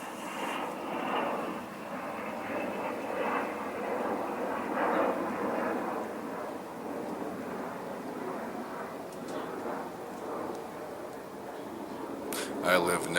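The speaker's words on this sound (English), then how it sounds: "That sounds like a fighter jet to me." A fighter jet flies over somewhere near an air base, a steady, distant broadband roar that holds for the whole stretch, with a few faint clicks near the end.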